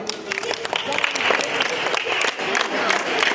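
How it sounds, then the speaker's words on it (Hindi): Students at a school language festival clap together in a dense, uneven burst, fairly loud and close, with some voices mixed in under the clapping. "ताली मार दो भाई"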